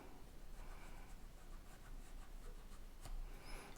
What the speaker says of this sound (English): you can just take a pencil and trace it